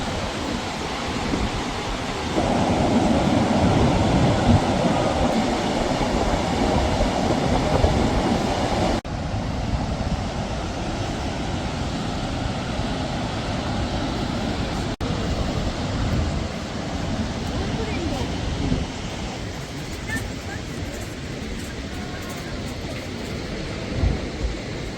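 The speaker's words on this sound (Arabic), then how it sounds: "الرذاذ تاع الماء يضرب لك في وجهك والصوت يدوي" Montmorency Falls waterfall roaring up close, a continuous broadband rush of heavy water that stays loud and steady throughout with no speech.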